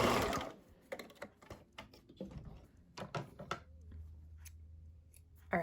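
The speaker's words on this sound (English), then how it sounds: "keep sewing the strips next to it, but I'll show you on the machine" A sewing machine stitches strips of upcycled t-shirt fabric in short bursts of whirring and clicking, interspersed with handling noises and pauses, fairly quiet and close.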